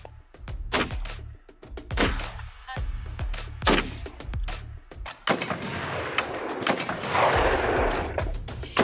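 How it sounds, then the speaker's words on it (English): A string of sharp, loud AR-15 rifle shots cracks out at uneven intervals outdoors, followed by a longer burst of rumbling noise, during a trick shot that splits a playing card. "I'll take it with an AR-15 card split"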